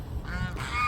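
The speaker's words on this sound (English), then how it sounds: "they are an African goose and a Chinese goose" African goose and Chinese goose honking together, a loud, close, continuous run of harsh nasal calls over about a second, with no talking.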